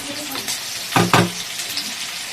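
Boiled cauliflower frying in a wok, a soft ongoing sizzle broken by a couple of brief scraping or stirring clatters near the middle, close by.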